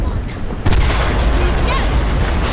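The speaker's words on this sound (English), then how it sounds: "I only counted two explosions." A heavy explosion booms in Battlefield 4 during a dam demolition mission: a sudden loud blast with a thick low rumble that rolls on under the game's background noise.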